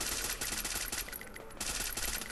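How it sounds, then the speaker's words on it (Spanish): Rapid automatic gunfire in the Free Fire battle-royale video game, dense loud bursts of shots running almost continuously with a brief thinning midway before resuming. "Son tiros el de acá."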